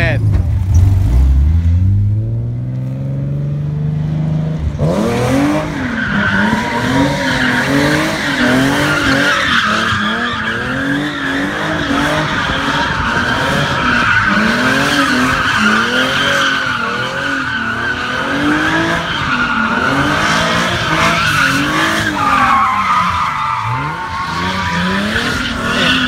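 A Nissan 240SX drifts with long, loud tire skids and squeals over a revving engine, with speech heard partway through.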